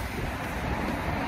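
Steady broadband wind blowing outdoors in Paris, a continuous rushing noise buffeting the microphone with no clear pauses and no talk.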